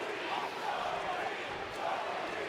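Arena crowd noise from the WWE 2K24 wrestling video game, a steady dense roar of many voices with no breaks, moderately loud and filling the whole moment.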